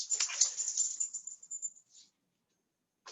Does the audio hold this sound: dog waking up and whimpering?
yes